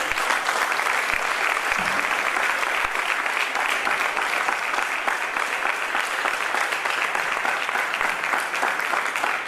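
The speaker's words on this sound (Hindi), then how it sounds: "जरा तालियां बजाइए।" Audience applause at a ceremonial concluding session where certificates are being handed out: steady, dense clapping from a large crowd that holds at an even loudness for the whole stretch, with no pauses.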